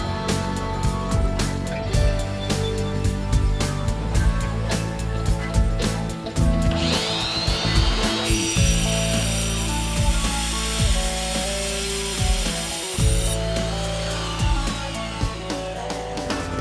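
A saw fitted with a katana blade cuts through Soterra wall material with a loud, continuous mechanical whine and rasp, and a sustained high cutting tone rises partway through before easing off near the end.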